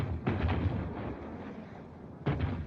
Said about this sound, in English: What's that shooting?